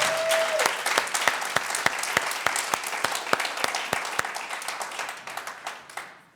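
A church congregation applauds loudly, the claps quick and irregular and gradually thinning toward the end, with a brief held tone at the start and no speech.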